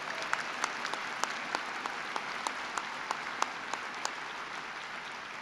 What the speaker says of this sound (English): You want to clap on that one?